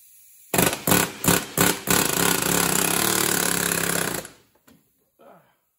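Pneumatic air hammer pounding a corroded, stuck power steering pump on a Porsche 944, loud close bursts of four quick hits then a sustained hammering rattle of about two seconds, ending with a few faint knocks.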